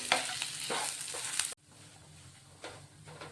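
Spiced potato filling with chaat masala and fresh coriander scraped and stirred in a pan over a low flame, a soft steady sizzle with several spoon scrapes, louder at first and then dropping to a quieter stir.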